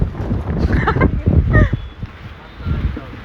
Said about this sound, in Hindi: यार यहाँ तो पूरी आंधी आ गई है।